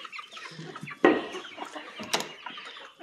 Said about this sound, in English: Look at all my birds.